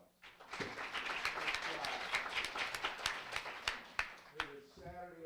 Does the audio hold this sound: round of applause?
yes